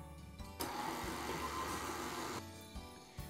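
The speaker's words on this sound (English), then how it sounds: "we're going to start the mixer really slow to let the flour mix in" A stand mixer runs slowly, working flour into chocolate chip cookie dough, with a steady close motor hum that starts abruptly, holds for about two seconds, then drops back to a lower drone.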